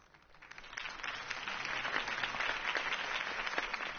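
A video game crowd applauding steadily after a mayoral campaign speech, many hands clapping in a dense wash that swells in and holds, with no talking.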